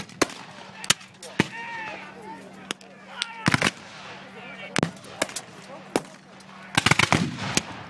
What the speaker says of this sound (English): our confederates have to stand up to maintain their rate of fire